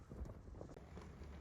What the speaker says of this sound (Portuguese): O vento ali.